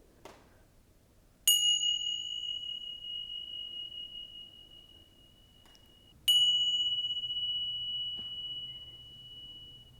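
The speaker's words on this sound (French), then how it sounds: "les petites clochettes tibétaines, ça fonctionne très bien pour ça" Two strikes of a small Tibetan bell, each a clear bright ring that hangs and slowly fades, the second landing about five seconds after the first, close and alone in a quiet room.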